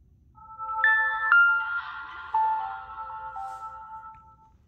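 Samsung Chrono SCH-R261 flip phone power-off tone: a short descending electronic melody of several clear bell-like notes, close and alone in a quiet room.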